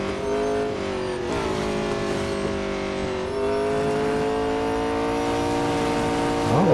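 A 2019 McLaren 720S GT3 racing engine in the Real Racing 3 mobile game, a steady droning high rev with brief dips and shifts, rising again at the end.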